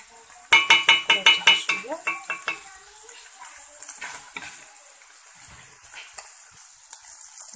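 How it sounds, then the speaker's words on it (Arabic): Onion and mushrooms frying in a pan, with a burst of stirring clatter and sizzle up front that settles into a steady quieter sizzle with occasional scrapes. "نضيفو البصلة نخليوها تتشحر مزيان"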